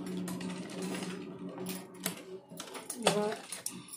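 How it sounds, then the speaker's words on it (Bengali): Sewing machine stitching a blouse sleeve design, a steady mechanical whirr with rhythmic needle clatter running through the clip, close by, with some sharper clicks and handling noise near the end. "তো চলো দেখে নাও কীভাবে আমি সেলাইটা দিচ্ছি"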